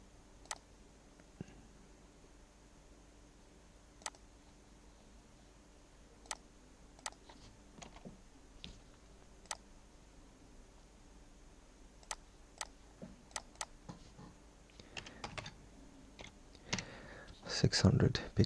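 Clicks and taps on a computer keyboard come in sparse, irregular single strokes, quiet and close, with a denser quick burst of keystrokes near the end over a faint room hiss.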